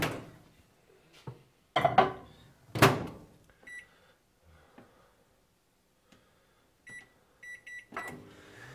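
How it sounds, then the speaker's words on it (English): A microwave oven heating a pumpkin: several clunks and knocks as the door is handled, a few sharp taps, then a run of short high electronic beeps from the keypad, close and fairly loud against a quiet room. "the first thing I'm going to do is just pop this pumpkin straight into the microwave."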